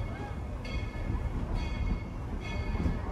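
Tweetsie Railroad train cars rolling backwards after a ride, a steady low rumble with faint metallic clacks recurring about every second, close and continuous.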